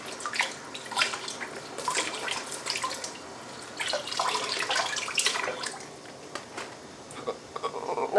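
Running tap water splashes and patters steadily, with irregular bursts of droplets and gurgles, close by and moderately loud, with no voices.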